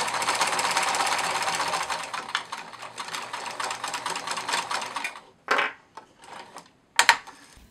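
A sewing machine runs in a steady buzzing burst for about five seconds while stitching a plush otter's seam, then stops and gives two short starts, close and fairly loud.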